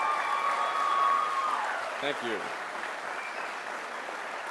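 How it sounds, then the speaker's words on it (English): Graduation audience at a college ceremony applauding, a steady wash of clapping that fills the hall and slowly eases, with a brief spoken thanks from the podium partway through. "Let's have a round of applause for our mothers."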